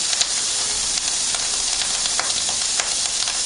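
Cut-up bacon and an Italian sausage fry on very high heat for fried rice, giving a dense, steady sizzle with small crackling pops throughout, close and loud, with no talking.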